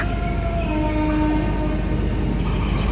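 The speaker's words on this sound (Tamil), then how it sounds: "ட்ரெயின் சத்தம் தான்" A train rumbles steadily past in Vyasarpadi, Chennai, with a continuous broad roar and faint high tonal whines, no voices.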